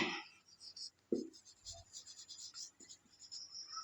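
Someone writes by hand during an English grammar lesson, producing a faint, scratchy stroking sound in short bursts with brief pauses, close to the microphone.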